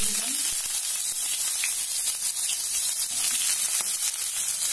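Chopped onion hitting hot mustard oil with black cumin seeds in a wok, a steady close bright sizzle and crackle running continuously without pause.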